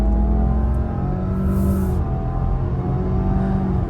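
A 2025 Subaru Outback Limited XT, with a 260-horsepower engine, accelerates hard at full throttle, giving a steady, loud engine drone with rising tonal harmonics and no talking.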